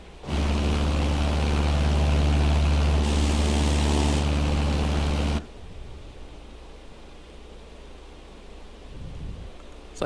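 A propeller airplane in Microsoft Flight Simulator drones loudly and steadily for about five seconds, then cuts to a much quieter, muffled hum.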